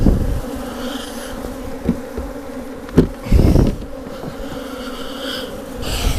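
Honeybees swarm around an opened hive during a late-summer honey harvest, a dense, continuous droning buzz close to the microphone, with a few soft knocks and scraping handling sounds from hive parts.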